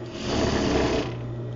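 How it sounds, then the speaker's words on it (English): Sewing machine running a steady stitch along the V of a welt pocket on a garment, a continuous close mechanical whir with a low motor hum that eases slightly toward the end. "So now you're going to stitch right along the stitching on the V there without catching your pocket"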